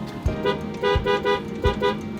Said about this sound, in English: They love the honking.